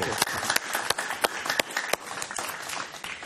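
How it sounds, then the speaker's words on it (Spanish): A studio audience claps for guest Alejandro Cardona on a television interview show, a brief burst of applause with distinct individual claps standing out, fairly close. "Un aplauso para él, por favor"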